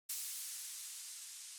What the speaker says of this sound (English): And then I added this white noise impact